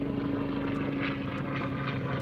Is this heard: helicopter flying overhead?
yes